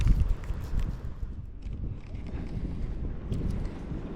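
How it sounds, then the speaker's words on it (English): Wind buffeting a microphone on a kayak while bass fishing among lilies, a steady low rumbling roar that swells and eases without letup, with light splashing and knocking underneath. "Wind's blowing me everywhere."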